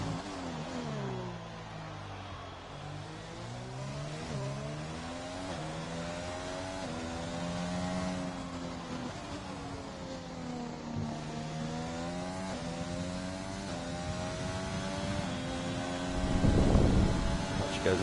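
A Formula 3 race car in a racing game on the China circuit, heard onboard as a steady high-revving engine whine rising and falling through gear changes, with a rougher burst near the end.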